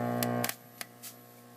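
An Atari Asteroids arcade machine putting out a steady electrical hum with buzzy harmonics, joined by a few sharp clicks and crackles before the hum drops and fades to a faint low drone.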